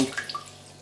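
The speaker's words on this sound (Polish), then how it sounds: "Zalej je wodą." Water is poured over peeled potatoes in a pot, as they are prepared for potato and mushroom patties. A short splash comes at the start, then trails off quickly into quiet, with no talking.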